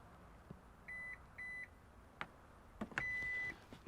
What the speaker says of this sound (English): We're going to hold this button down and listen for the beeps.